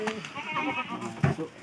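A plump goat bleats at a market near Umbul, Solo, one short nasal cry rising near the end of the clip under busy voices and crowd chatter.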